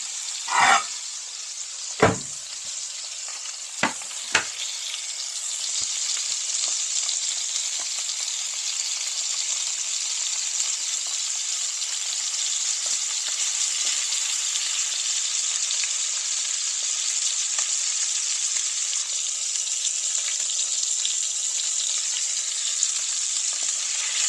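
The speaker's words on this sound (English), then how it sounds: "Now I'm going to end up frying it." Loud, continuous sizzling of food frying in a pan, with a few sharp clanks of utensils near the start.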